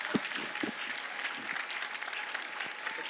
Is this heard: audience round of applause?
yes